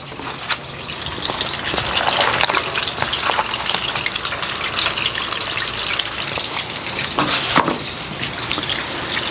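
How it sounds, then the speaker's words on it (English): Sliced onions frying in oil on a hot cooktop for a cheesesteak, a close, steady loud sizzle and crackle with a few brief stirring scrapes, no talk. "cheesesteak's got to have some onions, so let's get some onions going here."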